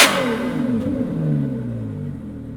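Ferrari 812 Competizione with a full titanium exhaust, valves closed, revving: a loud, close engine note that flares at the start and then falls away in a steady, subdued drone.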